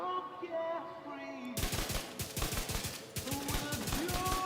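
SMG gunfire in The Division 2: after a brief stretch of tonal game sound, rapid automatic bursts crack out in quick succession, loud and dense, with a short pause midway before firing resumes.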